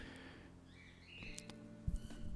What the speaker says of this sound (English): I can hear some birds chirping with high density.